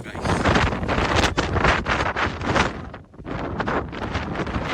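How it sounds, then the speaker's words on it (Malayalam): Fierce wind roars across the microphone at Raja Thottam mountain viewpoint in Kollam, loud buffeting gusts that dip for a moment before surging again. "കാറ്റെന്ന് പറഞ്ഞ ഒരു രക്ഷയില്ലാത്ത കാറ്റാണ് ഭയങ്കര കാറ്റാണ്"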